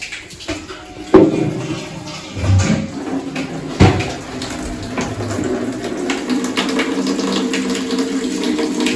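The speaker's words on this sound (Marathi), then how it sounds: "भरून चाललं सगळं पाणी" Water runs from a tap into containers being filled, a steady close gush broken by a few hollow knocks and clunks as vessels are handled.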